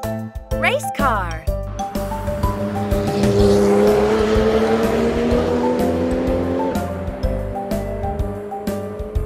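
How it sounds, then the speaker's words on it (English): A race car revs and accelerates loudly nearby, its engine tone sweeping upward with tire squeal, while a voice speaks over the start. "Race car."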